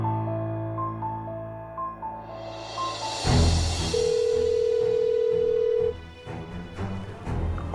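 A telephone rings out unanswered, a repeating electronic ringing tone with a long steady beep near the end, playing over soft background music in an Indonesian drama series.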